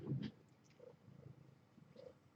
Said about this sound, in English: They could probably hear you purring.